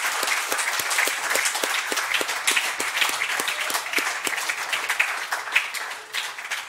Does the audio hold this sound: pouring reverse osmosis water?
no